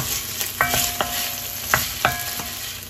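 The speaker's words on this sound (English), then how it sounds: "So I'm just going to saute the garlic" Garlic and onion sauté in a pan, a close, even sizzle punctuated by five or six sharp taps and scrapes of a utensil at irregular intervals.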